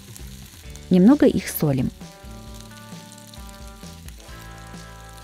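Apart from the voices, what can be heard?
halved cherry tomatoes frying in vegetable oil in pan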